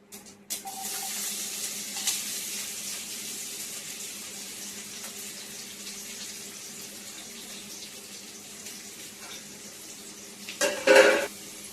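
Mustard seeds, onion and green chilli frying in hot oil gives a continuous close hiss of sizzling throughout, ending in a brief burst of pan clatter.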